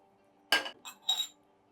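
A kadai pan is set onto a kitchen stove, giving three short metallic clinks and clatters in a quiet room, the first the loudest.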